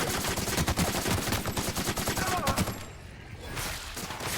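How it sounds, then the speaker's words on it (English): Rapid automatic gunfire in the video game The Outer Worlds, a sustained rattling burst of shots over about two and a half seconds that cuts off, followed by quieter game ambience. "Just shoot through some of my ammo"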